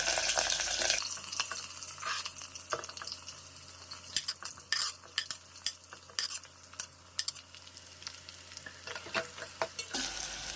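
Onion sautéing in a pan with whole spices for a prawn biryani, a steady close sizzle punctuated by a rhythmic run of sharp spatula scrapes and taps against the pan, no talking.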